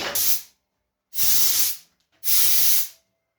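Three short bursts of oil spray aimed into a small drilled hole in a wooden shelf piece, each a sharp hiss of about half a second, close and loud with quiet gaps between.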